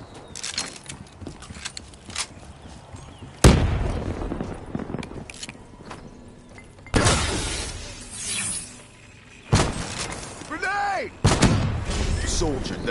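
A grenade blast and sharp gunshots in a first-person shooter free-for-all match, with several loud bangs in separate bursts and short in-game voice callouts between them.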